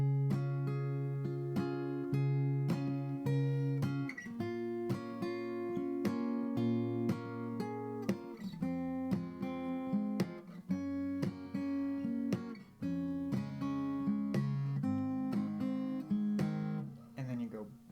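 An acoustic guitar slowly plays the verse of a song in a fingerpicked pattern over an open A bass note, with clear, ringing plucked chords that are steady and close.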